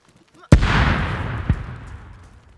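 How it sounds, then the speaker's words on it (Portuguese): An explosion in the survival video game DayZ, a sharp, loud blast with a long rumbling tail that fades out, followed by a second, softer thump about a second later. "dá pra escutar essa explosão daqui"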